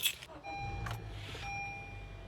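A car entered on a cold early morning: a door clunk and brief rustling, then a steady low engine rumble settles in beneath faint electronic chime tones.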